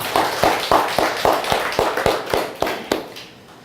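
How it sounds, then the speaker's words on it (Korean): Congregation in a church giving a short round of applause: about a dozen sharp, separate claps at an even pace, close and fairly loud, fading out at the end. "박수 한번 해줍시다."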